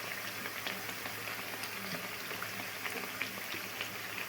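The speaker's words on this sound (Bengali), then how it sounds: "এখন গ্যাসের আঁচটা আমি একটু বাড়িয়েছি, দিয়ে তারপর লাল লাল করে ভেজে নেব" Homemade sweets fry in a pan over a raised gas flame, giving a dense, unbroken sizzle with fine crackling throughout, steady and fairly quiet, with no talking.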